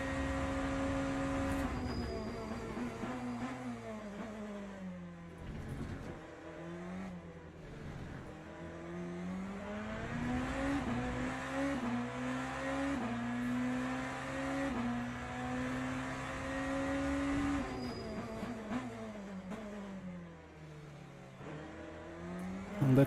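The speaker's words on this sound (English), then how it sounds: "that's a BMW GT3 right into the Eau Rouge" BMW GT3 race car in a racing video game at Eau Rouge, engine droning steadily with pitch rising and falling through gear changes, loud and continuous with no talk.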